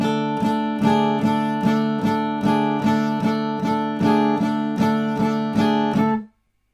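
Acoustic guitar chord picked in a steady, even rhythm while the little finger is lifted and set back down, the notes close and clear, stopping abruptly at the end.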